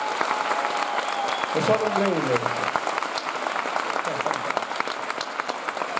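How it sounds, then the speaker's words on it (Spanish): A concert crowd applauds the lighting and technical crew at a singer's show in Cáceres, a steady clapping roar heard under someone speaking briefly. "quiero aprovechar el momento para pedir un fuerte aplauso para todo el equipo técnico"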